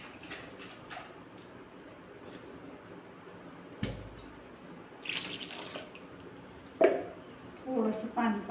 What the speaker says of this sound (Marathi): थोडंसं पाणी पण टाकलं.